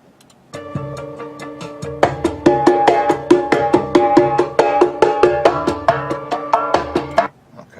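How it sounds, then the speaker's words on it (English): Big drums in a film music score pound in a steady repeated rhythm, booming hits with ringing tonal overtones that start softer and then grow louder, continuing for several seconds before stopping abruptly. "The big drums, which sound like this."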